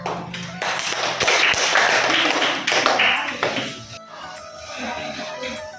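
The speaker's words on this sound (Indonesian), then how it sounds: "Tepuk tangan." Classroom applause from students after group work, a burst of quick, uneven clapping and tapping that swells, then fades to scattered claps with some murmuring voices.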